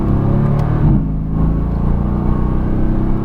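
A 2017 Mercedes-AMG GT S on a race track, its engine droning loud and steady with a rising throttle note and a short shift-like dip near the start, close-up and without talk.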